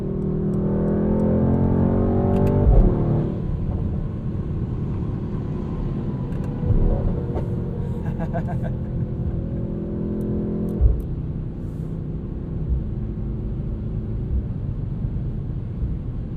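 Mercedes-AMG GT63S (2021) driven in race mode on the street, a steady low engine rumble with a louder rev swell near the start and a brief bump later, alone and close.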